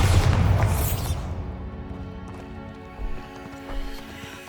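A Bombarda spell explodes in Hogwarts Legacy with a loud, heavy blast that rolls off into a fading rumble, followed by two softer thuds; no one speaks.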